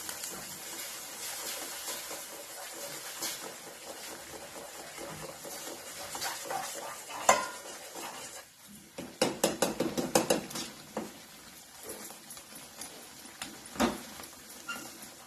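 Barnyard millet (vari) is stirred into boiling water in a pot for a fasting vada sambar, with soft scraping and bursts of metallic clinks and taps against the pot, quiet and close.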